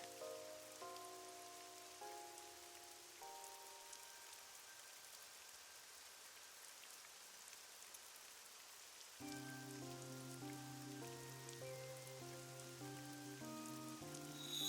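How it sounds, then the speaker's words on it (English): Steady soft rainfall hisses quietly throughout, with gentle game music from AI: The Somnium Files playing over it and shifting to lower, fuller notes partway through. "It's raining."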